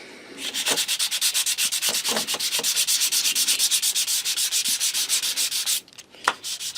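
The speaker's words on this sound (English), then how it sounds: "we're just going to give it a little bit of scrubbing with some sandy sticks" Close, rapid back-and-forth scrubbing of sanding sticks on a 1/12 scale Tamiya model rider figure, a steady rhythmic rasp of dozens of strokes that pauses briefly near the end before resuming.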